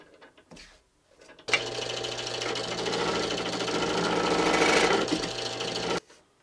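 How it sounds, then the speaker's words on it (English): A wooden yoyo blank, shaped like a donut, spins on a lathe as it is turned, giving a loud, steady mechanical whir with a low hum that starts abruptly, runs about four and a half seconds and stops sharply. "we're gonna mount this bad boy on the lathe and see if we can't turn it"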